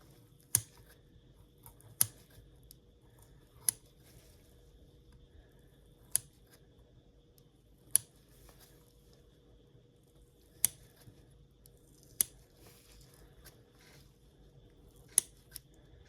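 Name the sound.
scissors cutting fetal pig tissue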